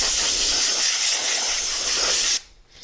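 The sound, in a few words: compressed air line blowing dust off foam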